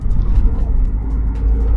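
Car driving along the winding Satara Ghats road, a loud, steady low engine and road rumble heard from inside the cabin, continuous without voices.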